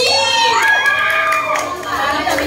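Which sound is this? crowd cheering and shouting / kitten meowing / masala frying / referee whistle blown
crowd cheering and shouting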